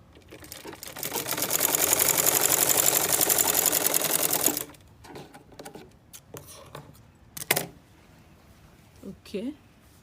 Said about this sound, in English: Now we are going to the sewing machine.